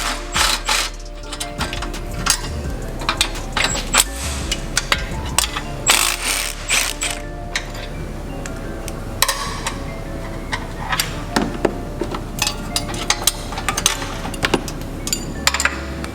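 Close, clattering metallic ratchet clicks from a wrench loosening the nut-and-bolt combo joining a Subaru's Killer B equal-length header to the up pipe, in irregular bursts with tool knocks, no talk.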